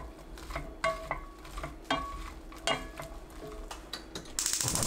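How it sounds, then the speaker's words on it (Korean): Onion, old cucumber, perilla oil and fine salt being mixed in an unheated pan, with a series of close, distinct scraping and clacking strokes of a spatula against the pan at an irregular rhythm. "불 켜지 말고 팬에 양파, 노각, 들기름 1큰술, 고운 소금 반 큰술 넣어 섞어줍니다"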